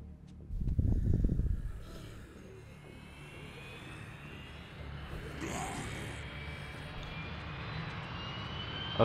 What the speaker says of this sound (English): Okay, a plane's coming my way.